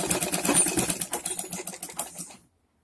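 A sewing machine stitches a padded designer blouse in a rapid, close mechanical clatter of quick repeated needle strokes for about two and a half seconds, then stops abruptly.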